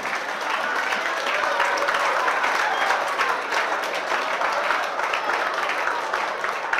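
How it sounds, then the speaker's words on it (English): Sustained audience applause fills a business seminar hall, dense and steady from start to finish with a faint murmur of voices beneath. "Please clap first."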